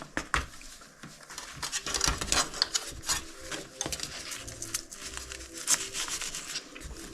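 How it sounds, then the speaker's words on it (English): Velcro strap pressed and fastened along the edge of a softbox on a Neewer 480 LED light, giving close, irregular rubbing and crackling rasps with small handling knocks. "Put that Velcro strap right along the edge"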